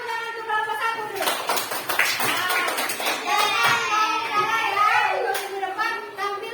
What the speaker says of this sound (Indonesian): Kita kasih tepuk tangan untuk kelompok satu dulu.